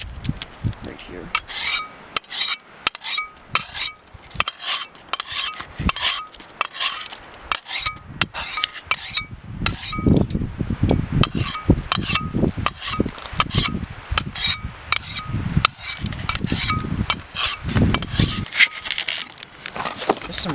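A hand file rasps burrs off a rough metal edge in steady back-and-forth strokes, loud and close. The rhythmic scraping continues for about twenty seconds with no talk.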